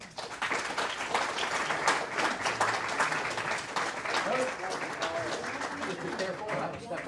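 An audience applauds steadily for several seconds to welcome a guest named Mick Bowdler at an East Liverpool event, dense clapping filling the room with some voices mixed in.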